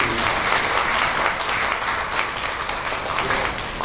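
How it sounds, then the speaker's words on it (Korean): Audience applause after a lecture at a year-end peace ambassadors gathering, a dense, sustained clapping from a crowd that holds steady for several seconds, loud and close. "박수 한번 크게 쳐주시기 부탁드리겠습니다"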